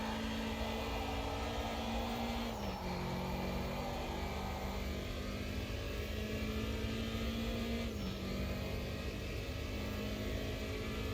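A race car in the Automobilista 2 racing game, heard as a continuous engine drone with tonal whine that shifts in pitch at gear changes, loud and steady throughout without speech.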